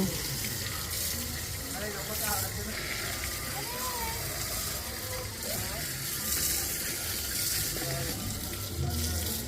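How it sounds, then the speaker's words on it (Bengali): Taro roots (kochu) freshly dug from a garden are rinsed under running water, a steady splashing wash carrying on throughout while a person talks over it. "ভালো করে ধুয়ে নিচ্ছে"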